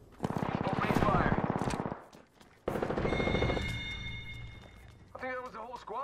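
Rapid automatic gunfire bursts in the video game Apex Legends, loud and dense for about two seconds, then a second barrage after a brief pause, with ringing electronic tones and player voices talking over the action.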